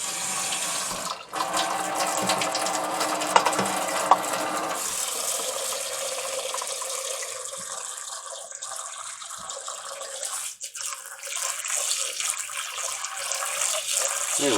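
Water runs steadily from a kitchen tap as rice is rinsed in a pot or bowl before going into a Zojirushi rice cooker, a continuous splashing rush with faint clinks of grains and container.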